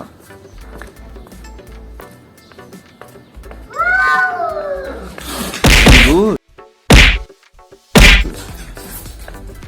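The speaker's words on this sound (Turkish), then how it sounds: "Kendinden kat kat büyük olan kedilere saldırıyor" Cats yowl and meow loudly, with a long rising caterwaul followed by sharp bursts of hissing and scuffling thumps, close by.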